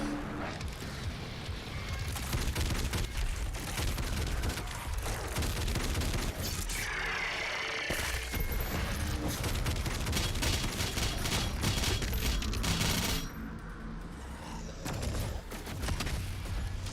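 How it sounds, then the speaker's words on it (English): Heavy rocket launcher fire in the first-person shooter Doom Eternal, a loud, continuous barrage of blasts and booms layered with gunfire and mechanical clatter for the whole stretch, with no talking. "That's the rocket launcher."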